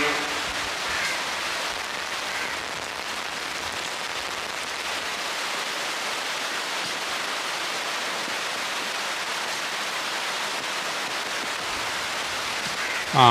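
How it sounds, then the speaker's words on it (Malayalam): Heavy rain pours steadily over a kitchen garden, a dense, even hiss of drops holding at the same loud level from start to finish with no voices. "മഴയുടെ ശക്തി പ്രാപിച്ചു തുടങ്ങിയിട്ടാണ്."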